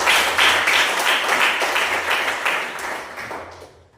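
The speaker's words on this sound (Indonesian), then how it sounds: "kasih tepuk tangan dulu." A classroom group claps after finishing a presentation, a dense patter of many hands close by that fades out over a few seconds.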